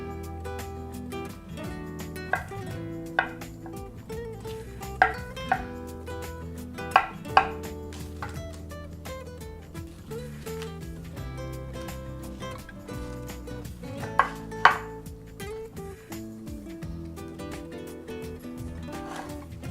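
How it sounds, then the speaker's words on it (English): Knife dicing roasted beets on a cutting board in scattered bursts of sharp taps, some louder than others, over soft background music. "I'm going to dice them up."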